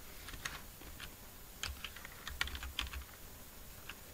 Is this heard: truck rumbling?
no